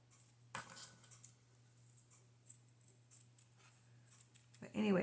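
Scissors cutting a length of trim for a junk journal page, a few soft snips and clicks close by, with a voice talking quietly under them.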